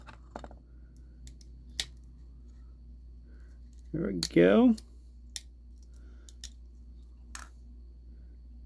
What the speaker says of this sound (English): Let's try and use the